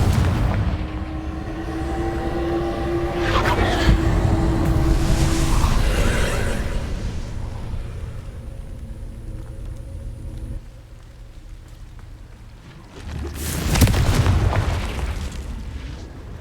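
Confringo blasting spell explosions in Hogwarts Legacy: a deep rumbling blast that builds and fades over several seconds, then a second sharp booming burst near the end, with no talk.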